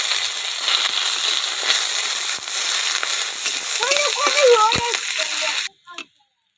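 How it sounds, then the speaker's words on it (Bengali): Chopped onions and dried red chillies fry in a little oil in a wok, giving a steady, fairly loud sizzling hiss that runs nearly throughout before cutting off abruptly near the end. "পেঁয়াজ ভাজা হয়ে গেছে"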